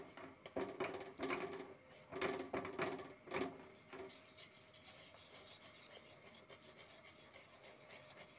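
Rice flour paste is stirred in a pan on a gas stove, a spoon scraping and rubbing against the pan bottom in several bursts early on, then a quieter steady rasp with faint background noise.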